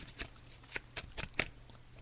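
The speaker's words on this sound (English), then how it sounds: "So I'm just shuffling the cards, and when Spirit tell me to stop, I'll stop shuffling the cards." Tarot cards being shuffled by hand give soft, faint papery riffles and slides in irregular bursts, with quiet pauses between them.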